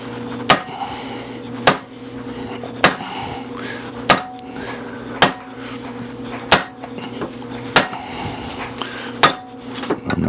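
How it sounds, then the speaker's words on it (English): Steel tabs on the abutment washer of a Daisy Model 96 Widebody BB gun take sharp metallic taps, about nine evenly spaced knocks over a steady background hum, close up with no talking. "you do need to give it some taps because it is steel."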